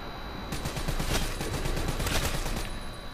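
A Pharaoh burst rifle fires in Call of Duty Black Ops 3 Zombies, rapid repeated shots in steady bursts over a few seconds, loud and close with no talking.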